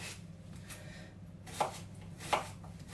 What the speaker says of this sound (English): I'm just going to slice this onion up